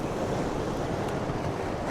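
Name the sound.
waves crashing on rocks at sea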